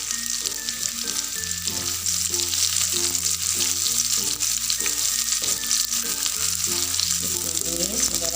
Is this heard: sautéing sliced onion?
yes